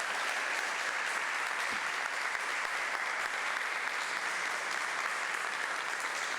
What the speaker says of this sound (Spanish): Te mandamos un fuerte aplauso.